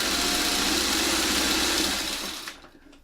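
Steady, dense mechanical whir of a sewing machine stitching a Y seam in a quilt block, running continuously up close for most of the clip and then stopping near the end, with no voices.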